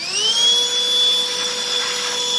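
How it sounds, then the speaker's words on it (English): A Black+Decker 20V Max lithium 2-in-1 cordless stick vacuum runs steadily with a high motor whine and airy suction hiss, picking up debris around edges, loud and close with no talking. "let's do a little vacuum with it"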